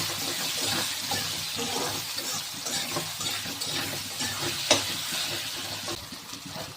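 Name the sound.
stirring rohu fish frying in a pan with salt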